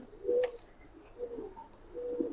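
Pigeons at a pigeon farm give soft, low cooing calls, three or four murmured coos close by with a faint background hush.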